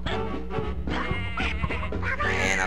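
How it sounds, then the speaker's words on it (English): A duck enemy in the video game Tom & Jerry Fist of Fury quacks in a rapid string of loud, nasal calls that repeat with only short gaps between them. "And I'm fighting a duck."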